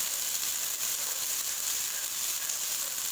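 Finely chopped onions frying in hot oil or ghee in a home kitchen, a soft steady hiss and sizzle, faint and continuous with no talk.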